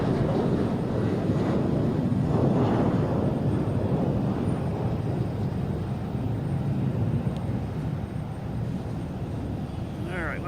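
Airbus A220 jet at Boston Logan Airport, a loud, steady roar that swells early and then holds broad and rumbling for the whole stretch, with wind buffeting the microphone.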